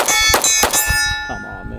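Several sharp metallic clangs and ringing dings from pistol rounds striking steel targets, fired in quick succession at close range with bright, sustained ringing tails.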